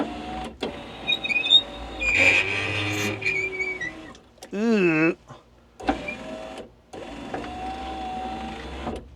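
A DeLorean's electric power window motor whines and grinds as the glass moves, with a voice speaking over parts of it and a short wavering tone midway.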